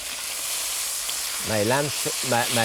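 Veal cutlets sizzling steadily in a hot frying pan as they are turned, a continuous close frying hiss with someone talking over it in the second half.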